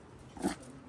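A dog at home gives one short, close bark or yelp in the middle of an otherwise quiet moment, with nothing else around it.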